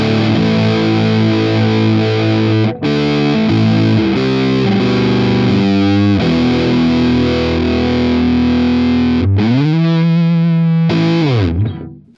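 Electric guitar pushed through an EHX Russian Big Muff Reissue fuzz pedal, a thick, saturated sustained fuzz tone with chords and riffs played loud and continuous, with a couple of brief gaps between phrases.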